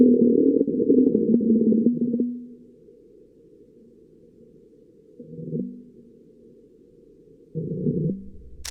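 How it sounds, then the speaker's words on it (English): NASA InSight lander's robotic arm shaking during a Mars quake: low, muffled rattling bursts with long quiet gaps between them, band-limited and dull, with no voices. "That was the sound of the shaking of its robotic arms."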